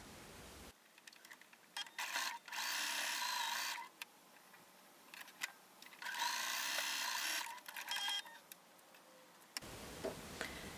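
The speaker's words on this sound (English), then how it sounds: "We're going to stitch these 2 together to make the bottom row" A sewing machine stitches quilt block pieces together in several bursts of rapid mechanical whirring, separated by short pauses with faint handling clicks.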